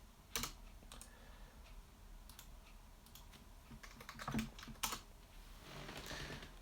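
Computer keyboard typing at a desk while setting up folders for a SNES Mini USB mod, a quiet run of irregular key clicks with a few louder taps and short pauses, heard alone without talk.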